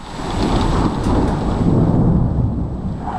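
A heavy thunderstorm in London rumbles with a low, rolling roll of thunder over steady rain and wind, loud and continuous.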